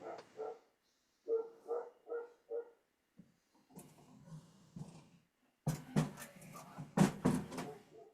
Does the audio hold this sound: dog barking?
yes